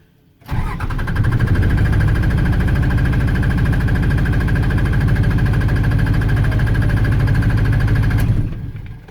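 The FrankenTruck's engine runs steadily and loudly up close, a continuous rough chugging rumble that starts abruptly and holds for several seconds before cutting off.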